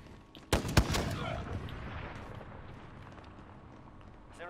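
Two sharp gunshots crack close together near the start of a 2v2 gunfight video game round, then a long fading tail of game ambience with no further shots.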